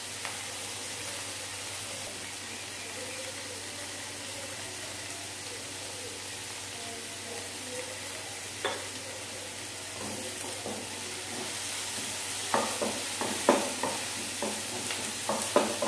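Onion and tomato with salt sautéing in a pan, a steady low sizzle under clinking stirring strokes that grow louder and more frequent toward the end, with no talking.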